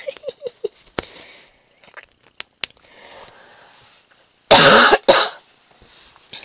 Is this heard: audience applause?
no